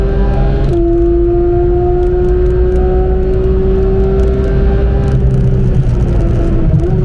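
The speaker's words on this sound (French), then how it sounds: "ils doivent tous se demander c'est quoi cette GT3, pourquoi elle fait autant de bruit" A Porsche 991 GT3 on the Nürburgring during a Touristenfahrten lap roars loudly from close by in a sustained, droning engine note that holds high and steady, dips briefly and then swells again.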